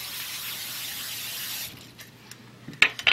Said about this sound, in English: A little cooking spray.